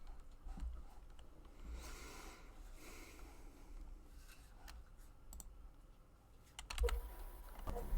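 Typing on a Corsair keyboard with Cherry MX switches, a quiet run of soft key clicks and taps with a couple of louder clacks near the end.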